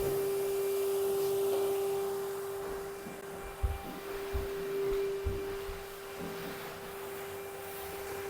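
A household vacuum cleaner runs steadily in a dusty house extension, a constant drone with a tonal whine, joined by a few soft knocks and bumps partway through and no speech.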